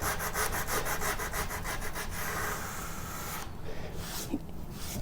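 An old campaign coffee table's worn fly-speck finish being sanded with 80 grit sandpaper on a detail sander, close rhythmic rasping strokes at first, then a steadier continuous scrubbing grind.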